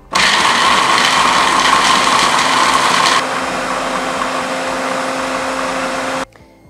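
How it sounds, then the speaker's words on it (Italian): Food processor grinding almonds and sugar for Sardinian sospiri, a loud, steady motor whir for about three seconds that drops to a lower, smoother hum before cutting off abruptly. "A questo punto andiamo a tritare mandorle e zucchero."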